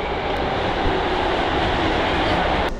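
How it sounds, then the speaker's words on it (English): A train on the Asakusa line in Japan pulls into a station, a steady loud rumble of wheels and rushing air filling the whole moment without speech, during heavy rain. "Here comes the train!"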